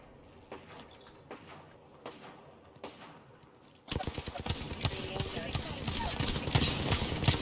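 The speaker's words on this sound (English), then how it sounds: "Opening fire." Rapid automatic gunfire in the Apex Legends battle royale game bursts in loud and dense halfway through, following quieter shuffling and clatter, and keeps firing steadily to the end.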